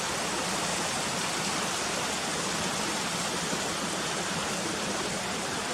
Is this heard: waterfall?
yes